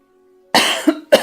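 Two close, sharp coughs come one after the other after a moment of near silence, the second briefer than the first.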